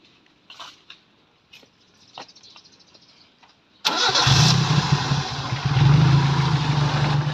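A Toyota 4K engine with a freshly overhauled carburetor, fitted in a Mazda 323, cranks and fires after a few quiet clicks and knocks, then settles into a loud, steady, close idle.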